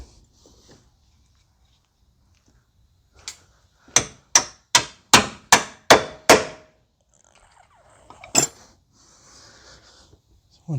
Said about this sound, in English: You can use a punch at the bottom, or a screwdriver or something